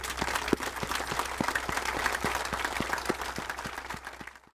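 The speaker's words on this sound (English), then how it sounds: "I want to give you guys a round of applause" Steady applause from a crowd at a Memorial Day parade ceremony, dense clapping that holds for several seconds before fading out at the end.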